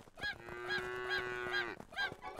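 A cow in the survival crafting video game Craftopia lets out a long, sustained, steady moo, while shorter rising and falling animal calls repeat around it at a fairly loud level.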